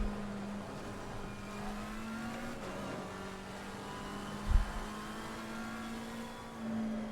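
GT3 race car engine in a racing video game, a steady mid-pitched drone holding an even note with a brief dip and a short low thump midway, moderately quiet, no talk.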